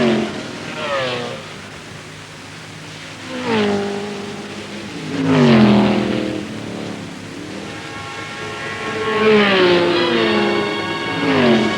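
A Ferrari sports race car engine roars past in repeated revving, gear-changing sweeps, rising and falling in pitch as the car accelerates and passes, loud and close, with a commentator talking over it.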